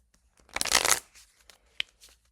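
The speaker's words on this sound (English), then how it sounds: "that's how she would shuffle" A deck of playing cards is riffle-shuffled once in a quick, crisp burst of fluttering snaps, followed by a few soft taps and a single sharp click as the cards are squared.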